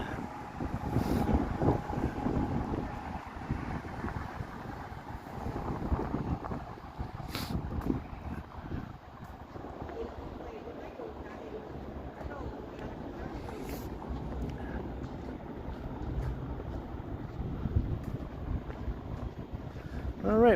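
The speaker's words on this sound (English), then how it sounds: "It's windy again here." Wind buffets a microphone on a Toronto city street in the evening, a steady rumbling roar with gusts and faint traffic beneath it.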